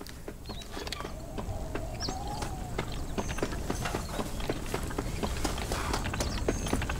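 In Red Dead Redemption, horse hooves clip-clop in a quick, steady rhythm over ambient outdoor noise, with faint bird calls mixed in.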